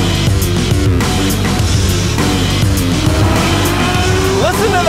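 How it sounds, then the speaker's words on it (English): Student-built electric car with a chain drive motor, giving a loud, steady mechanical drone and whine with a rising pitch sweep near the end, under excited voices talking. "You can hear that it's kind of loud, and that's because there's a chain drive motor."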